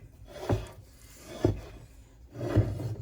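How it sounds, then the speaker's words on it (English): A spoon that doubles as a spatula scrapes the last carrot cake batter from a dish in three slow, close, rasping strokes spaced about a second apart, with no talk. "Here I'm getting the last of the batter out of the dish here."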